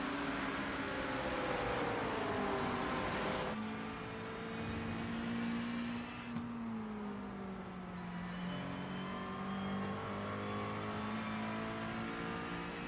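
GT3 race cars climb the hill at Watkins Glen in sim racing, engines whining and revving through gear changes with pitch dropping and rising, a steady moderately distant roar with no voices.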